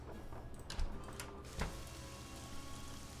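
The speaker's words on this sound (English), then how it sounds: "Maybe we're out in the rain." Rain falls in the video game Nancy Drew: Legend of the Crystal Skull, a soft, steady hiss of rainfall with a couple of faint thuds, quiet and continuous throughout.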